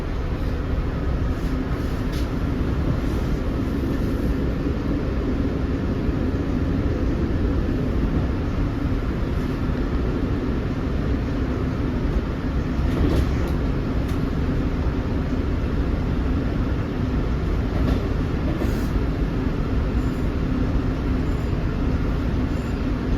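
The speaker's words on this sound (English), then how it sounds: "Eastbound M9, about to pass." A Long Island Rail Road M9 electric train passes eastbound, a loud continuous rumble and rolling roar of wheels with faint higher squeals, steady throughout and close by.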